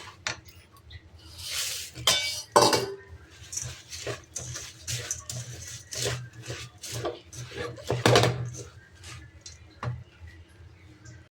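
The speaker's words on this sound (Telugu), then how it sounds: "ఇప్పుడు మరమరాలు వేసుకుంటూ కొంచెం కొంచెం కలుపుకుంటూ సిమ్లో పెట్టుకోవాలి" Puffed rice being mixed into a laddu mixture in a pan, with close, irregular scraping and clinking of a spoon against metal, crisp rustles and occasional louder knocks.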